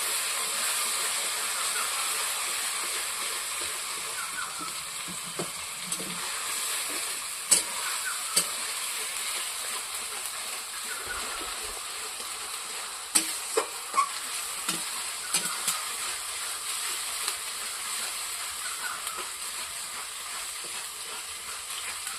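Mutton being stirred and fried in spiced oil with turmeric, a steady bright sizzle and hiss throughout, with occasional clinks and scrapes of a spoon against the pan, close up and without talk.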